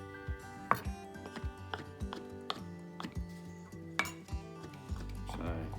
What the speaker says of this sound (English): And then we're just going to cut into little tiny squares.